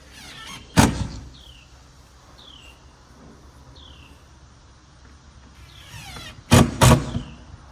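A newly installed window opened and shut, giving a few sharp knocking thumps at the start and a cluster of louder bangs near the end, with quiet sliding and faint squeaks between.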